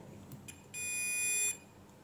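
A multimeter's continuity tester sounds a single steady, shrill beep lasting under a second while probing a capacitor on a circuit board at a repair bench, faint against a quiet room.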